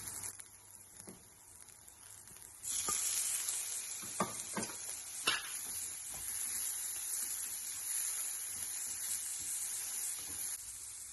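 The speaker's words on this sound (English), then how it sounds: "We'll fry the onion till it's golden brown." Onion and tomatoes fry in a hot pan with a steady sizzle. A few sharp clatters sound as the food is stirred and added. Nobody speaks.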